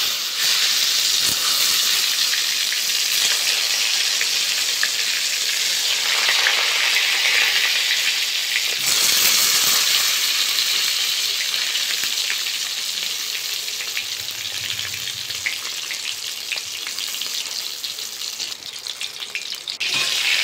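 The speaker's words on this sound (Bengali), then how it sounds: "2 পিঠ ভালোভাবে লাল লাল করে ভেজে নেব বেগুনগুলো।" Eggplant pieces coated in salt and turmeric fry in mustard oil in a kadai, a loud, continuous hissing sizzle that swells and eases slightly over time, with no talking.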